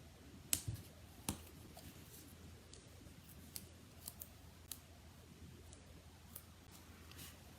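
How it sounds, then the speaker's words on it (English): Scissors snip through a strip of paper during card making, a few quiet, sharp clicks and snips, the clearest near the start, spaced out over a soft background. "We're going to cut a little bit of that strip off."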